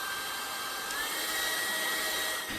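A hair dryer blows hot air onto an iPhone XR display to soften the glue. It gives a steady, close whirring roar with a faint whine above it, running continuously without talk.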